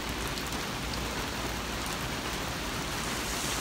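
Steady rain, with hail, pours down in Los Angeles, California as a dense, continuous hiss that stays loud and even throughout, with no voices.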